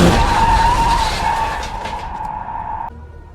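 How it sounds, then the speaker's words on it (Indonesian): A truck's tires skid and squeal loudly in a film scene, a long screech that fades over about three seconds before cutting off abruptly, with engine noise beneath. "di mana ia secara tragis tertabrak truk dan tewas di tempat"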